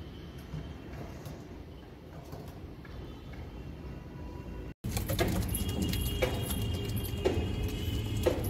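Pigeons kept in pairs coo softly in repeated low calls, with a brief cut midway after which the surroundings sound louder and closer.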